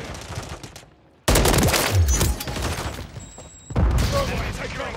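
Loud rapid gunfire in a Call of Duty MW3 Domination multiplayer match, bursts of automatic fire starting abruptly after a brief lull and continuing with short pauses, with faint voices mixed in.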